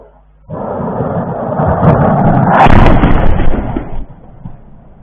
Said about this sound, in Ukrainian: у ніч на 2 березня у російському в Санкт-Петербурзі пролунали вибухи